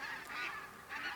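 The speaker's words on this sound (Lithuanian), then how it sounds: "Ir visos apylinkės paskęsta žąsų šurmuly." A flock of geese in the Lithuanian countryside honks in overlapping bursts, a busy, fairly close chorus with no pauses.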